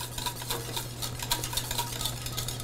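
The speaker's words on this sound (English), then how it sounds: "And whisk that all together." A whisk stirs salt, pepper and a quarter stick of butter into polenta in a pot, giving a steady, close run of soft scraping strokes with a faint low hum beneath.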